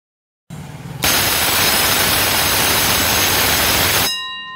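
An automatic electric school period bell rings loudly and steadily for about three seconds after a short buzz, then cuts off on its own; no one speaks.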